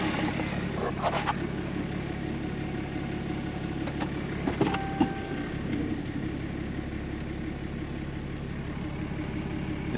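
Pickup truck engine idling steadily nearby while held against electric trailer brakes during a tug test at a campsite, a low continuous rumble with a few brief clanks midway.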